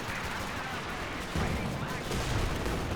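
A coordinated artillery barrage in Company of Heroes 2, a dense rumble of distant booms and crackling blasts that swells after the first second, with a voice talking over it.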